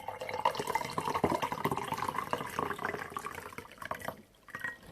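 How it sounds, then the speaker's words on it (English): Leftover tea is poured out, heard as a continuous watery splash and trickle for several seconds at close range, tapering into drips near the end. "I'm gonna pour out what's left."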